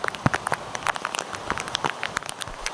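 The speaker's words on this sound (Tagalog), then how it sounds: "walang tigil ang ulan" Rain falling continuously, with irregular close droplet splats and patters striking a surface over a soft wet background hiss, without any talking.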